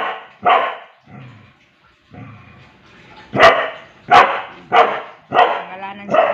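A dog named Rocket, a found stray, growls low and then lets out a series of sharp, loud close barks, about six in an uneven rhythm, between quieter rumbling growls.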